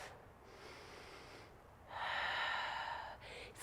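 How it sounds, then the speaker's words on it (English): A full, audible breath is drawn during a yoga flow: soft airy breathing swelling to a louder nasal inhale, then easing off, close and quiet. "Full breath."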